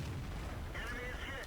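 A tank cannon in the World of Tanks video game fires a shell: a booming, crackling blast that fills the short clip, with someone talking over it.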